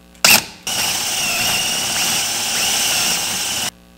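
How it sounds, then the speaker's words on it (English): A short burst, then a steady high-pitched power drill whine boring a hole in wood for a woodturning bowl blank runs for about three seconds before stopping abruptly, close and fairly loud. "drill this out right here"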